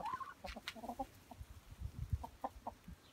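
Hens clucking in short, scattered bursts as they are let out of their enclosure, near and moderately loud, with low background rustle and footsteps between calls.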